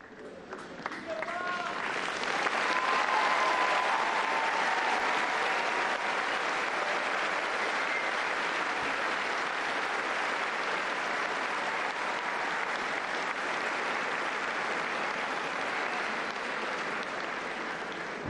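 Pilgrims at Pope Francis's general audience break into loud, sustained applause from a large crowd. The clapping swells within the first few seconds and holds steady throughout.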